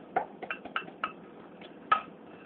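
Dry-roasted coconut stirred in a hot pan with the heat turned off, a spoon scraping and clinking against the pan in a handful of sharp, spaced taps over a quiet background.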